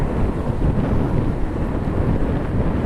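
Steady, strong gusty wind at Cleveland Hopkins airport roars and buffets the microphone, a dense rumbling rush that never lets up.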